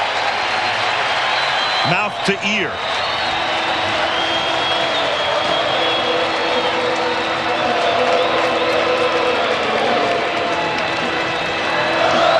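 A packed baseball stadium crowd at the 1995 World Series, Cleveland Indians at Atlanta Braves in Atlanta, roars in a sustained, loud wash of cheering that runs the whole time, with brief speech near the start.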